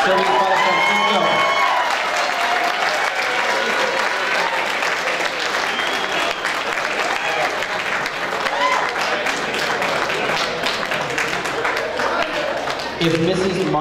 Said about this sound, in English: Have a round of applause for Sylvia's father, Francisco.